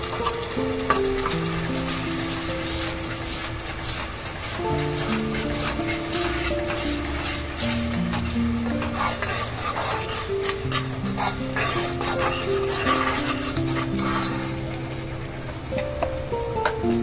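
Ingredients with tomato gravy are stir-fried and roasted in a pan, a steady close sizzle with continuous scraping and stirring throughout, plus tonal music running underneath.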